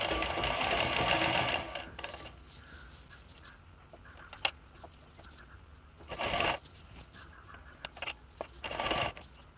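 Sewing machine stitching pleats into fabric for a frock, quiet bursts of rapid mechanical stitching separated by pauses and small handling clicks, close and fairly faint.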